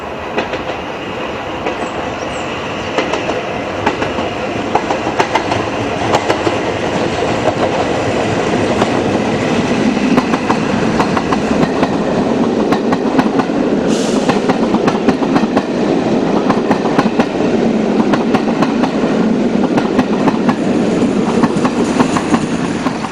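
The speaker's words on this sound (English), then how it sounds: "The Gridiron Grinder is next up, with both kinds of Doncaster-built Type 5 providing the power." A railtour charter train hauled by a pair of Doncaster-built Type 5 diesel locomotives rumbles steadily and loudly, with rhythmic clickety-clack from the wheels running through throughout, and no voices.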